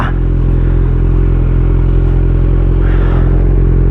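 Kawasaki Z900 motorcycle fitted with an Akrapovic exhaust, a loud steady idle or low rumble with constant engine drone throughout, close by and alone without voices.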